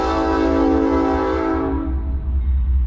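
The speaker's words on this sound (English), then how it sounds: "Here comes the train." A train passes close by, its loud horn blaring a sustained multi-tone chord over heavy rumbling wheels. The horn fades partway through while the low rolling rumble continues.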